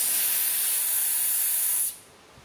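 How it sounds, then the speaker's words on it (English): Shop compressed air hisses loudly and steadily into an 11000 lb air bag jack, a broad continuous rush that cuts off abruptly near the end, leaving a quieter residual hiss. "That's my shop air going."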